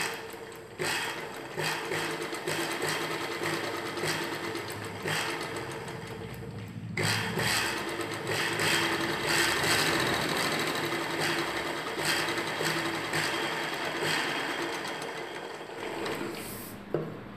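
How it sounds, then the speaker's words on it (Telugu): Sewing machine stitching a colored patch with lining onto a blouse piece, a rapid mechanical whirring rattle running steadily for most of the stretch, close, with a brief pause and restart midway. "ముందుగా ఒకవైపున కుట్టు వేసుకోవాలి."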